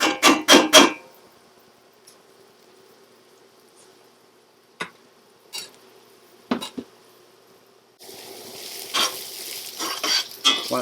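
Onion goes into hot oil: a burst of clattering utensils at the start, a quiet stretch with a few isolated knocks, then a close, building sizzle over the final seconds.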